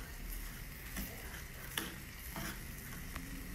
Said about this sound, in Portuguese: Vou mexer bastante até começar a dourar.